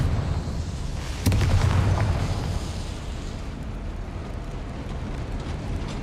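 A Confringo fire spell blast in Hogwarts Legacy, one loud booming burst with a rumbling tail that fades into steady background noise.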